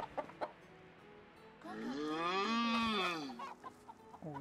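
Geese in the video game Medieval Dynasty give a faint honk, one drawn-out nasal call with a few short clucks before and after it, heard alone with no voices.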